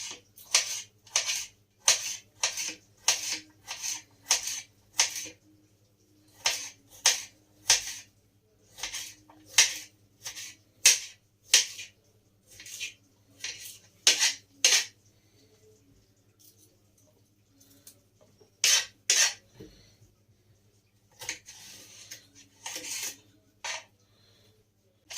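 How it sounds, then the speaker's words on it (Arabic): A knife chops cucumber and tomato into small pieces for a Ramadan suhoor meal, striking the board in quick regular taps in bursts with brief pauses. "فهقطع الخيار زي ما بقولك كده قطع صغننه، والطماطم برضك قطع صغيره"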